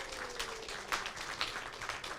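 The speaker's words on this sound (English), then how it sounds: "let's give them some more applause." Audience applauding after a dance performance, a steady wash of many hands clapping at moderate volume throughout, with no voices over it.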